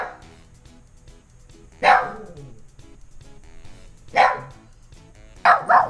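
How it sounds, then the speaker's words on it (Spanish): A dog gives three separate sharp barks spaced a couple of seconds apart, close and clear over a quiet, faintly humming room. "Domino ladra."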